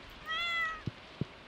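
A cat in the video game Stardew Valley gives one clear meow at close range, followed by two short soft thumps, with a quiet background and no talking.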